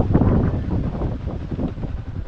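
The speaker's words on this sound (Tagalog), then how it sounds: "Hangin." Gusty wind buffets the microphone in low, rumbling bursts, loud and uneven across the short stretch with no voices.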